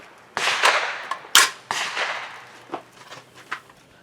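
A Bear Creek Arsenal BC-15 rifle in .350 Legend fires Hornady American Whitetail ammunition: several sharp, close cracks come in an uneven string, the loudest near the middle, then tail off into lighter clicks and knocks.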